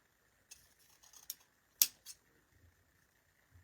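Scissors cutting ribbon tails on a grapevine flag wreath, with a few faint quick snips followed by one sharper, louder clip and a softer one close by in a quiet room.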